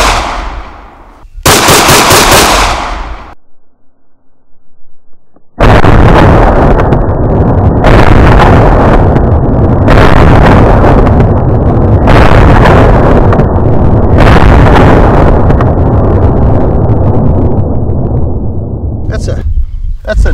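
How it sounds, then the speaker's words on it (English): A 9mm pistol firing Gorilla Silverback 115gr ammunition into a ballistic test, loud sharp outdoor gunshot bursts with a roaring, heavily clipped sustained blast that nearly fills the clip, with a brief quieter gap early on. "Now I'm going to step back and shoot it again."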